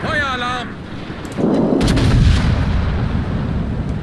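Secondary guns of a German battleship in World of Warships boom in a rapid cluster of heavy shots, loud and close with rumbling tails, after a short synthetic alert tone at the start.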